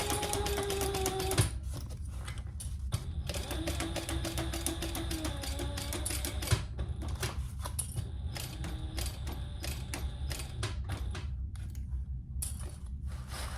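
A sewing machine runs a long basting stitch on a hot pink waist pack, with dense rapid needle clatter broken by short pauses and a few higher whines, close and steady.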